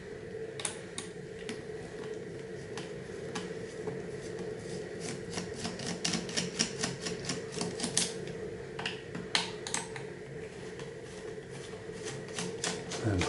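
Small screws are worked loose while a gadget is taken apart, giving faint, irregular clicks and ticks over a quiet background hum, with no talking.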